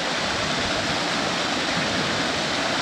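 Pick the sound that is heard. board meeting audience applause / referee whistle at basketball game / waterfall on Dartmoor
waterfall on Dartmoor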